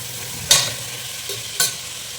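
Potatoes are stirred into mutton gravy in a pan, with a low steady sizzle broken by two sharp scraping stirs and one lighter one, close and without voices.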